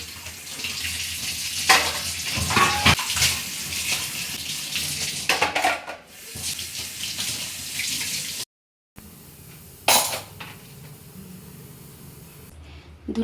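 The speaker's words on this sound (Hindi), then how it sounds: "फिर मुझे बर्तनों में लग गई कि चलो फिर बर्तनों को क्लीन कर लेते हैं।" Dishes are washed under a running kitchen tap: close, rushing water splashes and sprays, breaks off briefly, then resumes with a few sharp splashes.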